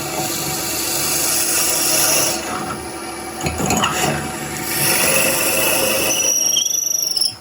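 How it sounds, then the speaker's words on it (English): A drill bit bores into a wooden goblet spinning on a lathe, cutting to a depth of 40 millimetres, producing a close, loud, grinding and rubbing whir that stops briefly midway and then resumes. "I'm going to use a drill bit."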